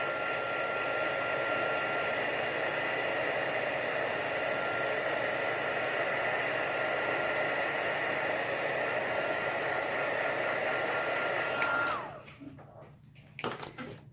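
A heat tool blows a steady, even whooshing hum while heat-setting clear embossing powder on ink, running continuously for about twelve seconds before cutting off, followed by a few faint handling noises.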